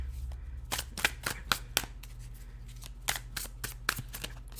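Tarot cards are shuffled loosely and a little messily by hand, with a run of crisp, close riffling snaps and flicks at an uneven rhythm.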